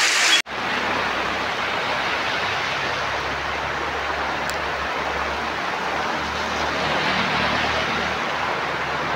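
Steady rain falling outside a roadside lottery shop, a constant dense hiss of rainfall on surfaces that starts abruptly and continues unbroken, close and moderately loud with no voices.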